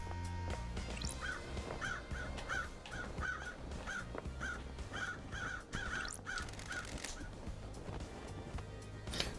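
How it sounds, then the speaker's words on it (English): Crows caw in a steady series of harsh, repeated calls inside the video game Paradise Killer, heard clearly over a low ambient game soundscape with no talking. "Hello, birds."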